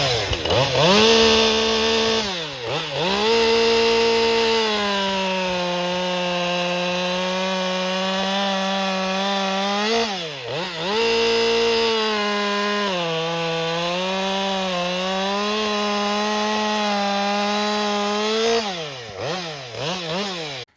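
Husqvarna 550XP chainsaw fitted with a .325 1.5mm C35 chain cuts through a soft cedar log, engine revving up then holding a steady loaded whine through two long cuts with brief dips between, loud and close.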